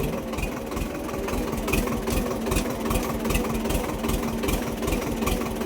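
Tractor engine idling steadily with a rhythmic low chugging knock, loud and close, while the tractor carries cucumbers along a muddy field track.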